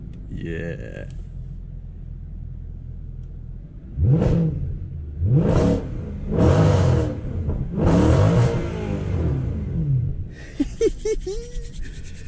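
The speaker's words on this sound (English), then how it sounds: "give you some of a taster of what the car sounds like" A 2012 Mercedes C63 AMG W204 engine is revved in a series of four rising blips, loud and close, after a quieter idle; a brief voice follows at the end.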